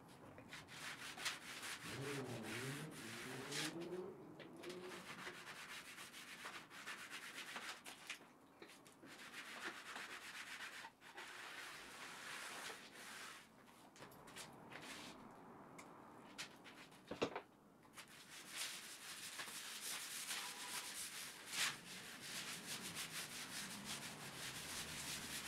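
Boiled linseed oil is rubbed by hand into a wooden workbench with soft, close rubbing and wiping strokes in irregular bursts, broken by a few light knocks and one sharp tap.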